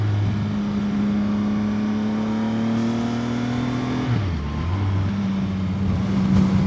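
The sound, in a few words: CFMoto 675SR-R motorcycle engine riding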